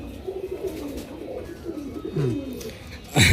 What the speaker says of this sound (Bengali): কবুতরটা দেখেন একেবারে নীলা